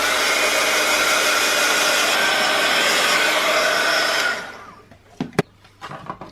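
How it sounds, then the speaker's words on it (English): A heat gun blasts steadily at close range onto a slim canvas, drying paste and ephemera, its loud broadband roar holding for about four seconds before cutting off, leaving a few light clicks and taps. "now what I'm going to do is I'm going to give this a zap with a heat gun"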